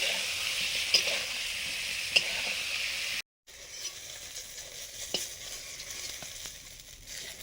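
Eggplant frying in a pan on the stove, a steady sizzle with a few faint clinks, cutting out briefly and then returning as a softer, quieter crackle.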